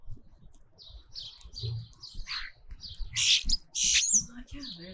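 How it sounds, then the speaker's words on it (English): Starlings squabble at a food spot, their harsh chattering, squawks and scratchy calls coming in close, uneven bursts that grow louder toward the end. "Starlings fighting. They're always chattering and complaining at each other."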